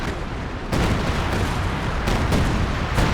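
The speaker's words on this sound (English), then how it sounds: "Here come the shells now." Artillery shells hit the ground in a Company of Heroes 2 battle, landing on Ostheer team weapons near an MG position. Loud, dense blasts follow one another every second or so, filling the whole stretch with rumbling explosions and no voices.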